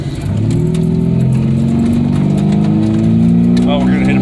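A Jeep XJ with a new transmission mount drives at about 40 mph. The engine and road noise give a loud, steady drone from inside the cab that holds evenly throughout, with a faint rattle near the end.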